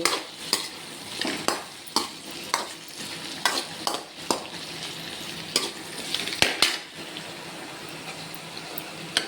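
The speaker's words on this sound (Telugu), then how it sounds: "ఫ్రై చేస్తున్నాను ఫ్రై మట్టుకే మార్నింగ్ దోసకాయ పప్పు ఉంది కదా ఫ్రై చేస్తే బాగుంటుంది" Dried fish curry frying in a pan gives a steady sizzle, broken by repeated sharp scraping clicks of stirring at an irregular rhythm, close and moderately loud.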